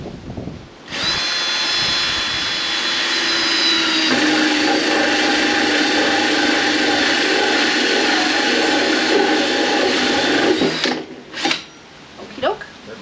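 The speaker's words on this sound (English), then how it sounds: "a hole saw that's 2 1/8 inches in diameter" A 2 1/8 inch hole saw on a power drill cuts through the material of a DIY strawberry tower, a loud steady whine running about ten seconds, pitch dipping partway as it bites, then stopping, followed by a few knocks.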